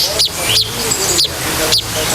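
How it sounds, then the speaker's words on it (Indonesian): Baya weaver chicks calling near a nest, four sharp high chirps spaced roughly half a second apart, close and clear over a soft background. "Padahal suara anakan ini loh guys."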